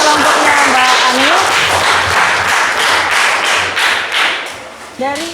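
A classroom of students claps for a presenting student group; distinct, fairly close hand claps in an irregular rhythm, with voices talking briefly at the start and near the end.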